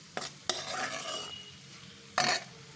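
A carrot and green pea curry being stirred in a pan, with a soft, quiet sizzle under a few sharp spoon scrapes and knocks, one near the start and another burst toward the end.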